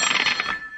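A telephone rings in a radio drama, a short loud electronic trill heard alone.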